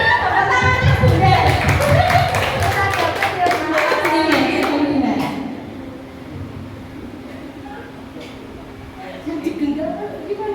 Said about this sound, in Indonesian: Tepuk tangannya Bunda.